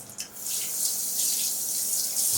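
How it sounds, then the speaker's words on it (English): Hands being rinsed under a running tap, a steady close splash and gush of water into a sink that continues for a couple of seconds with no talk. "then you rinse off."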